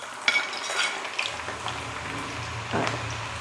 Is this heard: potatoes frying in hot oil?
yes